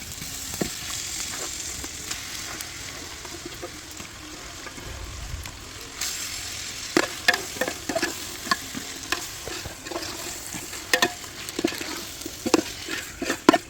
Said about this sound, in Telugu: ఇప్పుడు మనం మ్యారినేట్ చేసి పెట్టుకున్న చికెన్ మనం ఫ్రై చేసుకున్న ఆనియన్స్లో మొత్తం వేసేద్దాం